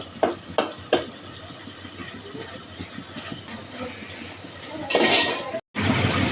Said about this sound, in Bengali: তো মাছটা প্রথমে কষিয়ে নিচ্ছে মশলার সাথে।